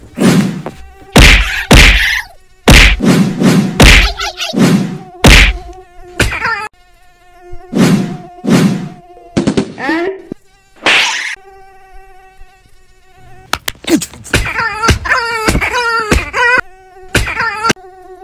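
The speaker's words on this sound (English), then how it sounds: "You are going to wrestle those mosquitoes." Mosquitoes buzzing in loud, close, whining bursts that start and stop repeatedly, alternating with brief gaps and ending in a denser stretch of overlapping buzzing.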